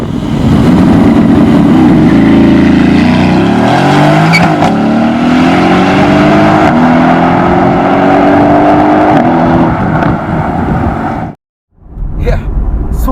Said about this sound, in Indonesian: langsung memasukkan mobil ini ke mode yang paling menarik, yaitu race, dan langsung mencoba akselerasinya